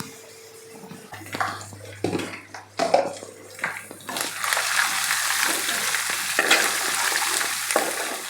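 Ginger garlic paste and a pinch of turmeric sizzle and fry in hot oil for a gongura chicken fry, with pan and utensil clatter at first, then a steady, close frying hiss filling the rest.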